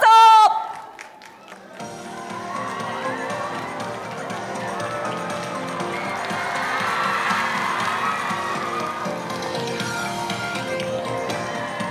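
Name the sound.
audience applause and cheering welcoming actors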